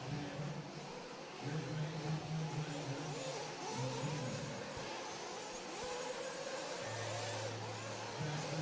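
Race cars accelerating during a heat at a racing championship, engines droning steadily with rising whine, partly distant, under crowd ambience; an announcer briefly talks over it.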